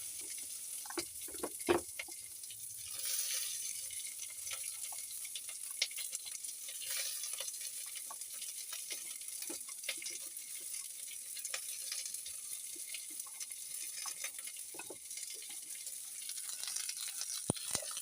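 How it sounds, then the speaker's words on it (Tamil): Onions frying in oil with mustard seeds and curry leaves for a spicy tomato pachadi, a faint, continuous hiss and sizzle with occasional light scrapes and pops, heard alone. "கடுகு போட்டுட்டு கடுகு பொரிஞ்ச உடனே கருவேப்பிலை போட்டுக்கலாம். வெங்காயம் போட்டுடலாம்."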